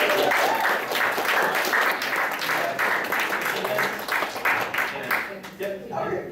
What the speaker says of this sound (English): Come on, give her all applause, guys.